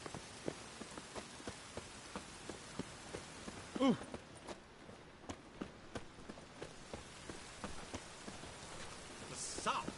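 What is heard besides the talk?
rain falling in a PS4 video game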